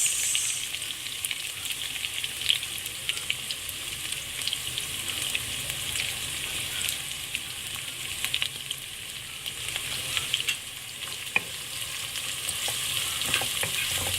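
Garlic and onions sizzling in hot oil with fenugreek seeds in a pan for a Sri Lankan fish curry, a steady close hiss and crackle with occasional stirring scrapes.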